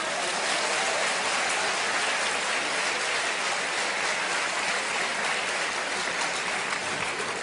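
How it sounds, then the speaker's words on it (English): Audience applause at a debate talk, a dense, steady wash of clapping from a large crowd, sustained evenly with no pauses. "give him another clap for that"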